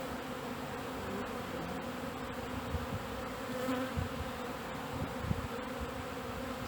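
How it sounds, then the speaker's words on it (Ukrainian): A dense, continuous hum of many honey bees buzzing close by in a hive during spring, steady and loud with small swells, no voices. "дуже багато бджоли ще внизу"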